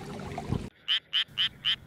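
A Japanese tree frog croaks in a steady series of four or five short, evenly spaced calls, close and fairly loud, after a brief burst of low rumbling noise.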